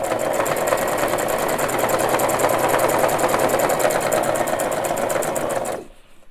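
Close and loud, a sewing machine stitches a three-layer fabric face mask in a fast, steady mechanical patter that runs for nearly six seconds before stopping abruptly.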